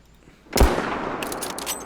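A single loud gunshot from a fairly accurate gun in the video game Prehistoric Hunt, sharp crack followed by a lingering reverberant tail.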